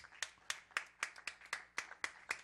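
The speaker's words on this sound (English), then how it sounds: "Give a strong applause to the Lord." A church congregation claps in a steady, even rhythm, about two claps per second, crisp and fairly close with no voices over it.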